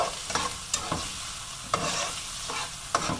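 A green chili sizzling in hot oil for tempering, a steady close hiss of frying broken by several sharp scraping stirs at irregular intervals, with no voices.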